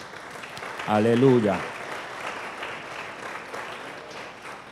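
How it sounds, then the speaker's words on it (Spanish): Church congregation clapping during a sermon, a continuous soft wash of many hands applauding throughout, with one voice briefly calling out over it near the start. "¿Quiere darle palmas al Señor?"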